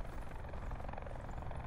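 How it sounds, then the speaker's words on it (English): A helicopter in the Blackout mode of a first-person shooter lifts off, its steady rotor drone heard faintly and evenly throughout the short stretch, with no voices over it. "He's in the helicopter now. He's taking off."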